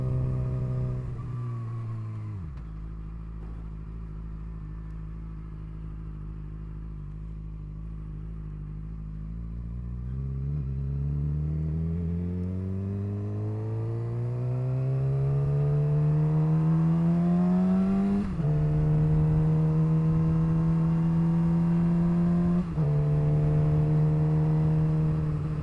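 A Suzuki GSXR600 sportbike cruises along a highway on a warm autumn day, heard from the rider's seat. The engine drones steadily, its pitch rising and falling through gear shifts under constant wind rush.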